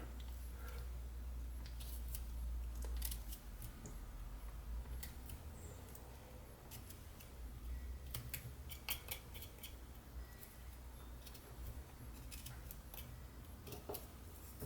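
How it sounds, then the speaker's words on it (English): Opinel folding knife making a stop cut into wood during a wood spirit whittle: soft, scattered scraping and ticking cuts, close and quiet, over a low steady room hum with no talking. "So I'm just going to put a little bit of a stop cut in here."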